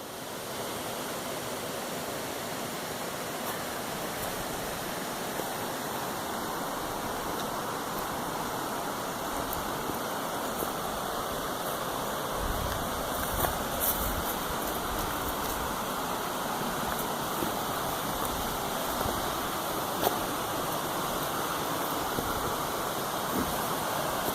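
Steady rushing of Red Creek flowing past a backcountry campsite in Dolly Sods, a continuous broadband wash of water with no voices, holding an even level throughout.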